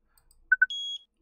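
Electronic alarm beeping in an indie horror game: two short bleeps followed by a longer sustained tone, clear and isolated with no talk over it.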